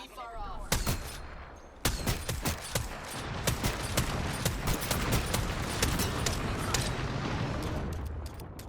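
Enemy gunfire in the shooter game Apex Legends: loud, rapid bursts of shots crack in quick succession, almost unbroken after the first volleys, with a voice faintly underneath.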